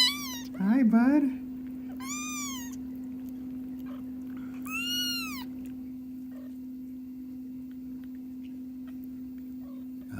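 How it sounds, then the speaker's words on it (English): Tiny excited kittens give several short, rising meows: a cluster near the start, another around two seconds, and a longer one near five seconds, all over a steady low hum. "There's nothing better than a tiny little kitten that is excited to see you."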